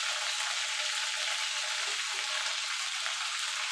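Black cumin (nigella) seeds sizzle in hot oil as a tempering for a shapla (water lily stem) dish, giving a steady, close, dense hiss that runs unbroken and alone throughout.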